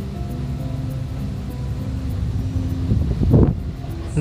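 The engine of a modded Jetbus 3+ SHD Mercedes OC 500 RF bus in Bus Simulator Indonesia hums steadily at low pitch, then rises to a louder rumbling surge near the end as it accelerates.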